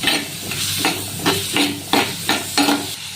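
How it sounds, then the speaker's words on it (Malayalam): Green chillies are sautéed in a pan in a close, loud sizzle, with rhythmic scraping stirs repeating about every half second over the hiss. "മൂന്നാല് പച്ചമുളക് ഞാൻ എടുത്തിട്ടുണ്ട് നല്ലതുപോലെ ഇതൊന്ന് വഴറ്റിയെടുക്കാം"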